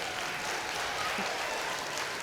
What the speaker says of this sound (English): give a round of applause for Noah